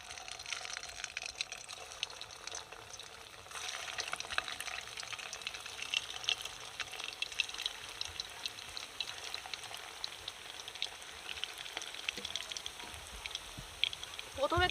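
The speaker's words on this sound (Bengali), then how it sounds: "এবার আমি বাকিগুলো ভেজে নেব।" Soya gulab jamun balls deep-frying in hot oil in a village kitchen, a steady close crackle and sizzle with dense fizzing bubbles throughout, briefly louder in the closing second.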